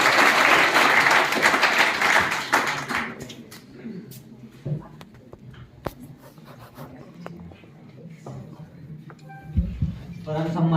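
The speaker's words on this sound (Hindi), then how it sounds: "स्वागत करते हुए जोरदार तालियों में" Loud applause from students and teachers at a school farewell ceremony welcoming a student speaker, dense clapping for about three seconds that then thins out to scattered claps and room noise.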